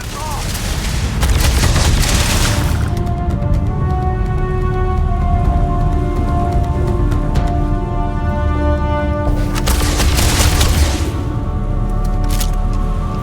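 Heavy, dense gunfire from Starfield as shots punch through a wall, loud sustained blasts with rumbling booms and a steady musical tone underneath, close and continuous.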